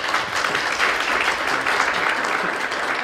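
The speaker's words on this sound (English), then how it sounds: "we should applaud our panelists." Audience applause for a panel at a county council forum, steady and dense clapping from a crowd that fills the whole stretch without pause.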